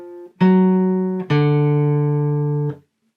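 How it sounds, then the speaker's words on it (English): Two sustained guitar tones with sharp electronic attacks, moving from a minor third to a major third, the second slightly higher, shifting from a darker to a brighter interval before cutting off. "This is the sound of the flat third, the minor third, to the major third."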